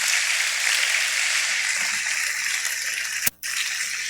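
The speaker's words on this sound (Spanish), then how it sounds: "Brinden un aplauso al Señor." A church congregation at Iglesia Nueva Jerusalén gives sustained applause, a dense hissing wash of many hands at fairly close range, broken by a brief sharp thump near the end.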